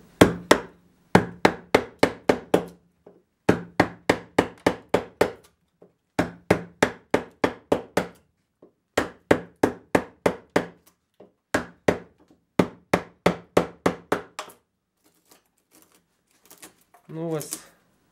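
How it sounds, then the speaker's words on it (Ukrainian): A wide woodworking chisel struck with a mallet to cut into oak, sharp rhythmic knocks in quick bursts of five to eight blows separated by short pauses, close and loud, with a brief voice near the end. "Трошечки кілька зробив різів по дубу."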